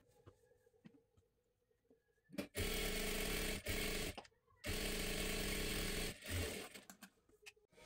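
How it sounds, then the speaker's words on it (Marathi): A sewing machine runs in bursts, stitching the lining of a princess-cut blouse with a collar, its motor whirring loud and close in three or four runs separated by brief pauses and small handling clicks. "इथे आपण पूर्ण शिलाई मारून घेतलेली आहे"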